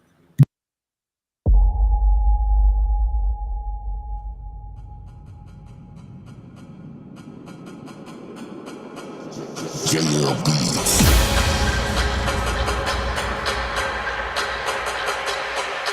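An electronic music beat, used as a live show intro, plays with a sustained droning tone that swells and builds, then jumps to a louder, denser section partway through.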